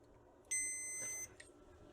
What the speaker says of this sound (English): The fuse is beeping, it's fine.